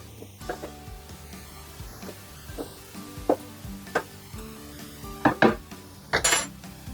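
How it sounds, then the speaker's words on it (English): Spoon stirring chopped tomatoes in a pan during lasagna prep, a few scattered scrapes and metallic clinks against the cookware, close and moderately loud, with no voices. "Chopped tomatoes. Give it a stir."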